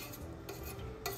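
A spoon stirring tomato paste into the coq au vin liquid in a pot over raised heat, soft scraping and a few light clinks against the pot, close and quiet with no talking.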